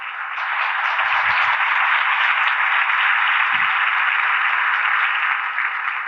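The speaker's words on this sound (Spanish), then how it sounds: "Denle un aplauso al Señor, pues." A church congregation claps for the Lord during a Spanish-language sermon, a steady, dense wash of applause holding at even loudness throughout with no voices over it.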